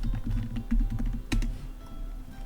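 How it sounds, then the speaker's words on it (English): Keys tapped on a computer keyboard while an email address is entered, a steady run of close, light clicks with a few sharper strokes, no talking over them. "I'm going to type in my email here."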